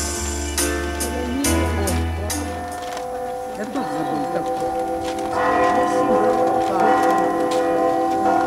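Church bells ring amid music and voices at a concert for Second World War veterans marking the 70th Victory Day in 2015, the tolling tones mixed with sustained melodic sound throughout.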